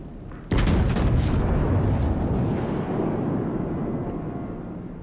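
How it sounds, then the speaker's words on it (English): Battleship main guns firing in a naval combat video game, Arizona battleship, a single sudden heavy boom that rolls into a long loud rumbling decay, close and heard alone. "I want to be able to accurately shoot at him."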